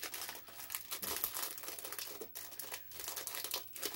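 A taped-up parcel box being opened up close: dense, continuous crinkling and crumpling of packaging with rough tearing of tape, loud and busy throughout with no talk.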